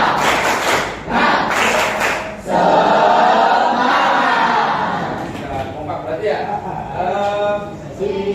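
A school class performs a rhythmic group spirit clap, a few sharp patterned claps at the start, then the students' voices chant together loudly in unison.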